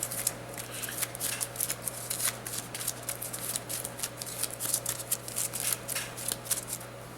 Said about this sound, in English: we'll shuffle these up real good